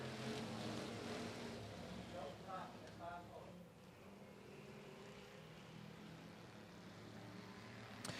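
Race cars roar around the dirt oval at Golden Triangle Raceway Park under green-flag racing, a continuous wash of engine noise from several cars beneath an announcer's running commentary.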